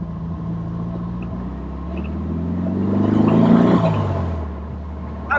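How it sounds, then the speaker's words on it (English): A Porsche 356 Speedster engine drones steadily at low speed, its pitch rising and swelling louder around a gear change before settling again, with a brief knock at the very end. "just playing a bit with the gearbox, hearing the car shift"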